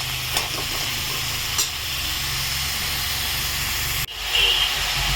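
Mango ambol, a sweet-sour chutney, is stirred in a hot pan, giving a steady hiss and sizzle with a few faint scrapes and a brief knock near the end.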